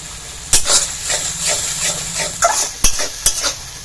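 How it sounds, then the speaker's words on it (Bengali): Spice masala for pabda fish curry is stir-fried in a pan, with loud, repeated spatula scrapes and clacks over a continuous sizzle, close up and with no talking. "কষিয়ে নিব, না হলে লেগে যাবে মশলাটা।"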